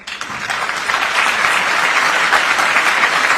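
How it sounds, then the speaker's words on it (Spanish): An audience at a university conference breaks into strong applause for women on Women's Day, building quickly into a loud, sustained wash of clapping. "un fuerte aplauso para ellas"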